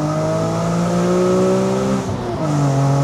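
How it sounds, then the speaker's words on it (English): A BMW E46 M3 engine pulls hard under acceleration in second gear from 2,000 rpm, a steady rising drone with strong harmonics, then dips briefly as if shifting before continuing, loud and close. "I'm just going to show you how cleanly this engine pulls"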